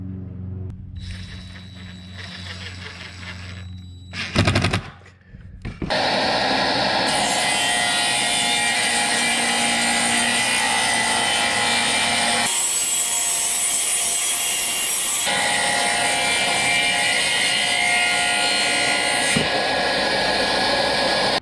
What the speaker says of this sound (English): screw it on to the tapering jig and then we'll run it through the saw.